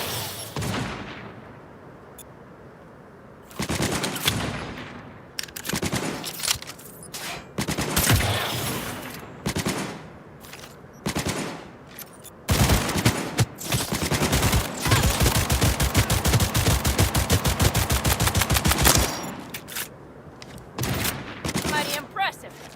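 Heavy gunfire in the shooter game Cyberpunk 2077: repeated loud bursts of automatic weapons and rapid volleys, including a long sustained stretch of continuous fire, with voices shouting between bursts.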